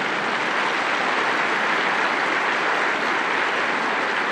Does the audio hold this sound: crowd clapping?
yes